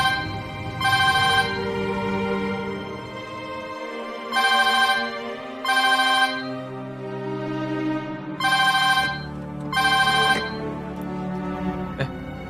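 A mobile phone ringtone rings in about six short, loud bursts separated by pauses, over a low background hum.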